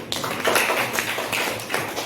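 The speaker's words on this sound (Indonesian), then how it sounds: "tepuk tangan buat kelompok ready" Students in a classroom clap for one of their groups, a steady patter of many hands rattling together at close range, with no talking over it.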